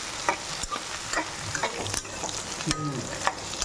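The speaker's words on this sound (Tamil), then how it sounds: "அந்த எண்ணெயிலே நல்லா சுருளை வதக்கணும்." Onions saute in groundnut oil for an eggplant gravy, with a soft frying sizzle under frequent close scrapes and taps of a spoon stirring the pan.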